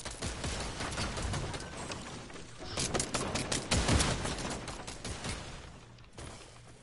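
Rapid gunfire bursts from a video game firefight, dense and continuous at moderate loudness with a heavier cluster of shots in the middle.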